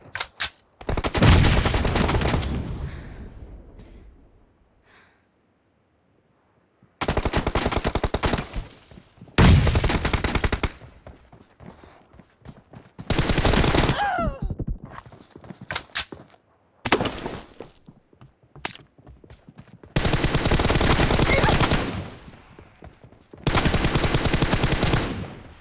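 Gunfire in a team deathmatch video game fight: long bursts of rapid automatic fire, loud and close, alternating with short pauses and scattered single shots, no talking.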